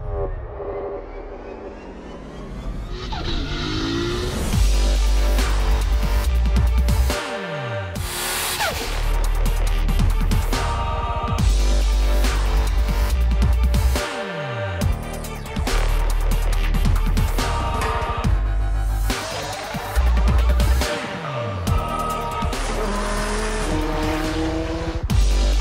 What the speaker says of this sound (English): we get our Mark V Supra onto the dyno and start tuning